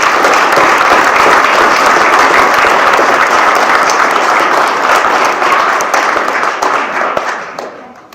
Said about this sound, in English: and Joey a round of applause.